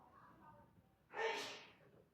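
A single short sneeze, close and fairly loud, bursting out of a quiet room during a shiplap home-improvement project, with faint background noise before it.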